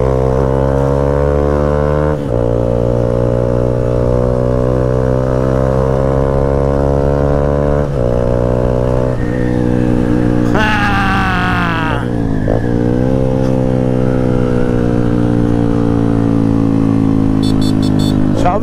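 A Honda CG 160 Titan motorcycle with a full stainless-steel exhaust revs hard and climbs through the gears, loud and close, with sharp jumps in pitch as it accelerates.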